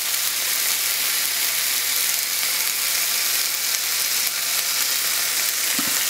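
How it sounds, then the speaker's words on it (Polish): Bacon slices frying in a pan make a steady, dense sizzle at close range. The crackle holds even and loud the whole time, with no talking. "Na patelnię wrzucam najpierw trochę boczku w takich plastrach i go ładnie podsmażam"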